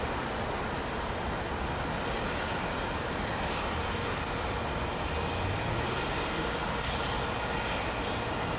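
Aircraft engines at Heathrow Airport's runway give a constant, loud, broadband roar that holds steady from start to finish with no voices over it.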